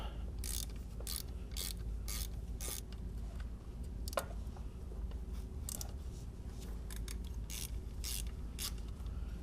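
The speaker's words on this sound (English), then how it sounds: "Then last we'll remove these 3 10mm bolts." Ratchet loosening 10mm bolts on the alternator of a 2002-2006 MINI Cooper S, rapid bursts of close metallic clicking repeated in several runs over a low steady background hum.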